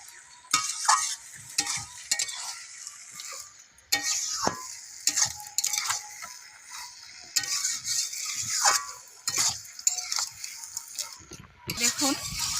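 Chicken pieces stir-fried with spices for a home-style curry, the spoon scraping and stirring in steady repeated strokes over a bright, constant sizzle of hot oil, close and fairly loud.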